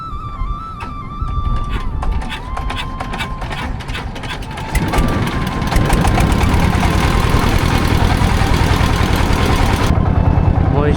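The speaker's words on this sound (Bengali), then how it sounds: "নৌকাটি স্টার্ট করা হচ্ছে।" Boat engine being started on the Jamuna river chars in Bogura, a cranking, knocking burst that catches and settles into a loud, steady, close chugging run.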